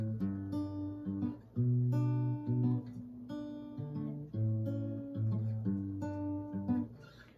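Acoustic guitar playing the chord pattern of a song, plucked notes and held chords ringing in a steady rhythm, close and clear with no talking.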